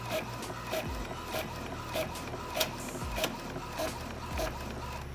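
Home printer running off sewing pattern pages, a steady mechanical whir with regular rhythmic clunks of the paper feed about every half second, moderately loud and alone.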